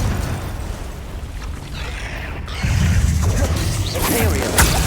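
The Confringo fire spell explodes in Hogwarts Legacy combat: loud rushing bursts and booms with whooshing swirls, swelling and continuing without a break through the battle noise.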